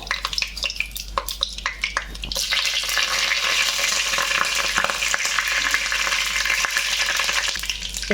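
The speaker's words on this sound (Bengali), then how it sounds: "তেল গরম হয়ে গেছে শুকনো লঙ্কা দারচিনি তেজপাতা" Dried red chillies, cinnamon and bay leaves drop into hot oil and ghee and burst into loud, dense sizzling that settles into a steady crackling fry, with a few stirring clinks at the start.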